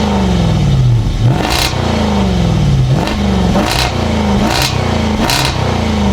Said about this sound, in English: it comes with quad exhausts that sound absolutely amazing